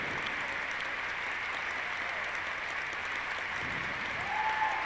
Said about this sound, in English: Texas can applaud a great deal longer and louder than that.